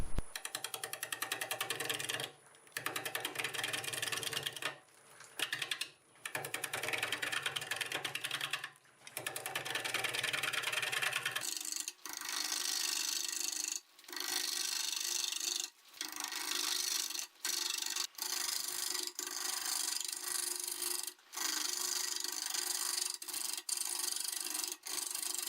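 Olive wood spinning on a lathe at 590 RPM under a 5/8 bowl gouge, a loud steady scraping and rasping hiss broken by brief gaps as the tool lifts off, close up with no speech.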